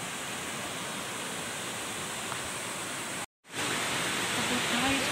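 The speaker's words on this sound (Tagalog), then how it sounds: "Tapos tayo sa waterfall. Sarika waterfall." Sarika Waterfall in Nakhon Nayok pours with a constant hissing roar, close and loud, broken by a short dropout partway through before resuming steadily.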